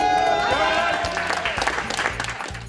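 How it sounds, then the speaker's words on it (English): A small but enthusiastic outdoor crowd applauds and cheers in celebration of a bell ringing, with steady clapping and voices that fade slightly toward the end. "Outside, a small but enthusiastic crowd gathers to celebrate."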